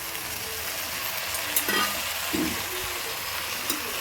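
Tomatoes frying in a pan for a green vegetable biryani, an even close sizzle with a few stirring knocks and scrapes, no voices.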